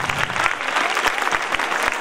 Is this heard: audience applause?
yes